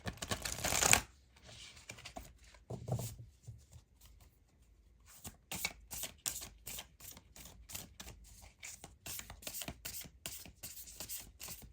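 Tarot cards are shuffled by hand in quick, crisp riffling bursts, a loud flurry at first, then a pause before a run of rapid evenly spaced card flicks up close.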